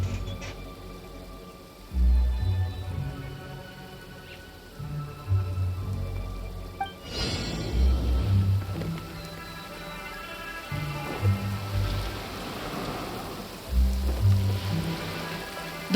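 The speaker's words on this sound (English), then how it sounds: "The rain Oh. won't slow me down." Steady rain in Genshin Impact, a soft continuous hiss running through the whole stretch beneath game music, with low melodic notes rising and falling and no clear talk over it.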